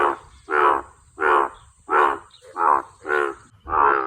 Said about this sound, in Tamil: இப்போ நம்ம பேக்ரவுண்டில் கேட்குறது வந்து பார்த்தீங்கன்னா ஒரு தவளையோட சவுண்டு தான்.